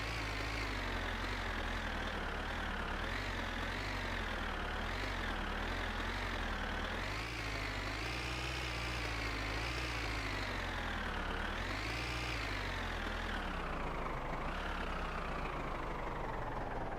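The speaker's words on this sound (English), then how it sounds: "now I'm going to drive the tractor out here" A tractor engine runs continuously in My Winter Car, a steady, loud, low rumble whose pitch rises and falls as the throttle changes while the tractor is driven.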